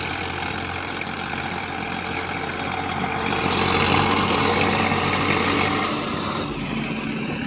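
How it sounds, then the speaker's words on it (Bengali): A Swaraj 744 FE 4wd tractor engine drones continuously while its wheels spin and slip in deep mud, a steady mid-low rumble that swells louder in the middle, then eases. "মেশিনও ঘুরে যাচ্ছে। মেশিনের চাকা স্লিপ হয়ে গেছে"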